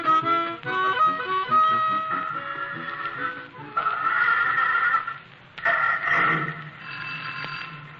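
A telephone rings insistently in a garage office in an old-time radio drama, its bell repeating in bursts over a busy, tonal background for several seconds.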